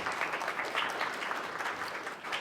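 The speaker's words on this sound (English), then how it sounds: "Round of applause for Gayle." Audience applause for Gayle at an entrepreneur investment event, a steady round of clapping from a modest crowd, moderately loud and close.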